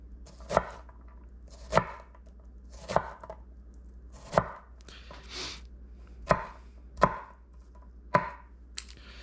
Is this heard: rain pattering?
no